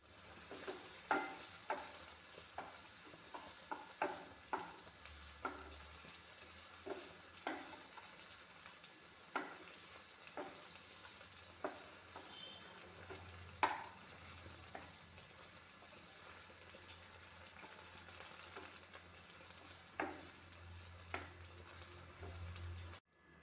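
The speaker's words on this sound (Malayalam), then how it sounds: "വഴുതനങ്ങ നല്ലപോലെ എണ്ണയിലിട്ട് വഴറ്റിയെടുക്കാം ആദ്യം" Brinjal pieces sauté in oil in a pan with a soft, quiet sizzle, punctuated by regular light taps and scrapes of stirring, roughly one every second or two.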